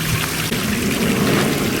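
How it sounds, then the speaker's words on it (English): Pond water is poured into a plastic bag holding fish, giving a steady close splashing trickle that runs without a break. "He's doing the second step of putting a little bit more pond water in the bag with the fish"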